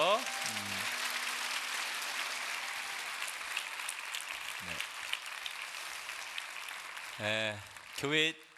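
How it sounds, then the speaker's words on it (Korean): A congregation applauding during a Sunday church service, a long, dense wash of clapping that fills the room and fades out. Voices briefly break in near the start and the end. "축복의 박수 한번 해주십시오"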